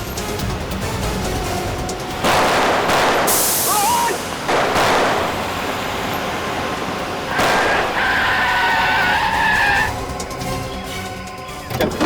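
Car engine and tyre skids in a dramatic crime-drama action scene, with several loud bursts of revving and screeching across a noisy, busy soundtrack.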